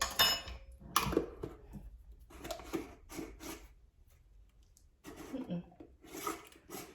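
Spoon scraping and clinking against a pan while an ingredient is stirred in for Swiss steak, intermittent close scrapes in short bursts with quiet pauses between.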